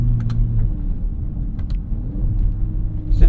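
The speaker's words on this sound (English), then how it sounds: "This exhaust sounds great." A deep, throaty car exhaust rumbles steadily up close, with a low idling growl and a few faint clicks, no talking.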